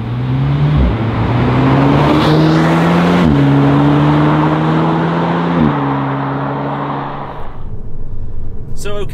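Alpine A110 with a 1.8-litre four-cylinder engine accelerating hard, its rising engine note climbing through several gear changes heard from inside, loud and close, then easing off to road noise near the end.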